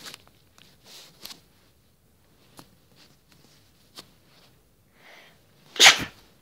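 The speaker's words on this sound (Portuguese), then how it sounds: "vou espirrar, calma aí." A single sharp sneeze bursts out near the end after a few quiet seconds of faint rustling and small clicks.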